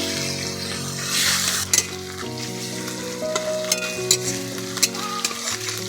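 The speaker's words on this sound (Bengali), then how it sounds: "পেঁয়াজটা ভাজা ভাজা হয়ে গেছে" Onion paste and a bay leaf frying in hot mustard oil, a steady close sizzle with intermittent stirring scrapes and light clinks of a utensil against the pan, no talking.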